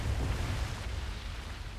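A deep, rumbling explosion in the World War II shooter Medal of Honor: Above and Beyond, a broad roaring blast that lingers and decays over a couple of seconds with no voices.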